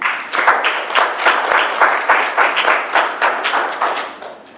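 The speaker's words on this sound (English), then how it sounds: "let's give her a round of applause" A small audience at a morning 1 Million Cups startup event claps for a speaker named Ashley, a sparse, close-up burst of individual hand claps in a loose rhythm that thins out toward the end.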